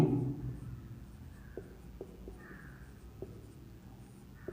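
Pen or marker strokes during a Class 12 maths lesson on matrices, a few faint scratchy taps and short scribbles spaced irregularly over a quiet room hum.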